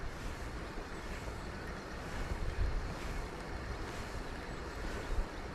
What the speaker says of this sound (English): wind keeps coming and going